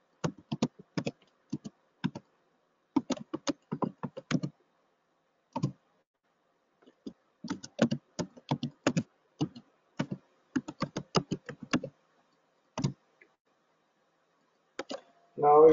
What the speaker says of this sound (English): So I'm entering the password.